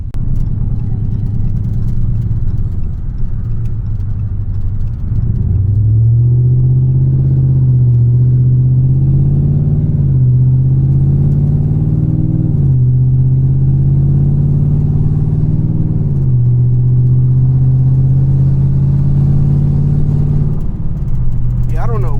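A 600hp Dodge Charger Scat Pack engine drones loudly and close, its pitch climbing in repeated surges as it accelerates and shifts, then it settles and revs briefly near the end.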